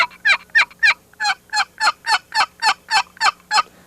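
A Strut box call scraped to imitate turkey yelping, about a dozen sharp, raspy yelps in an even, quick rhythm, loud and close.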